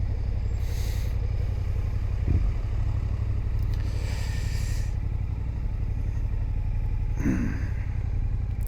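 A motorcycle engine on a ride gives a steady low drone with a constant rumble, joined now and then by brief scrapes and rushing wind noise.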